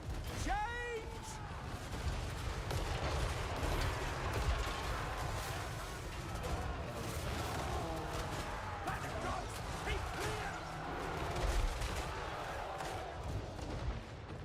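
Cannon fire and battle clatter from a modded strategy game campaign form a dense, continuous din of booms and mechanical creaks, with speech running underneath throughout.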